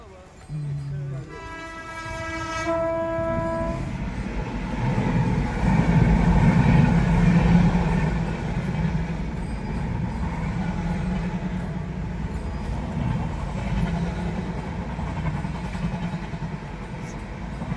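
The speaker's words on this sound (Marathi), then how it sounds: "आता रेल्वे येऊ राहिली थोड्याच मध्ये तिचा आवाज येऊ राहिला आता" A train passing near Malegaon MIDC sounds a long horn blast in the first few seconds, then a heavy, continuous rumble of wheels and wagons that swells and stays loud until the end.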